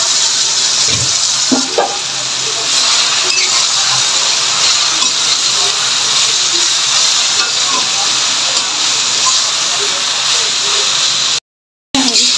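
Jute leaves sizzle and hiss steadily in a hot pan over a village stove, a broad continuous frying hiss running nearly unbroken with a few faint clinks, then cutting out briefly near the end.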